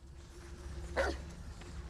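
A dog in the Hogwarts Legacy video game gives a single short bark over a low, steady game background hum.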